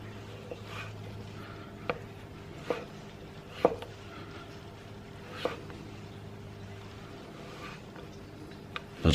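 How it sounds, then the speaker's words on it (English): A knife slices through an avocado on a board, producing a handful of soft, separate cutting taps spaced a second or two apart against a quiet background. "And let's get some nice slices here."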